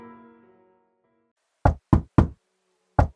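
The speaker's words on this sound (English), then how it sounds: "Every few days, there was another knock." Four sharp knocks on a door in an animated story, the first three in a quick row and the last after a pause, loud and isolated following a fading musical tone.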